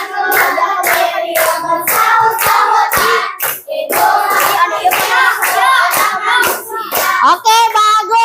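A classroom of children claps in a loud, fast, patterned rhythm, with bursts of many hands separated by brief gaps and children's voices mixed in.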